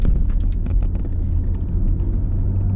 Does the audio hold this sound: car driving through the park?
yes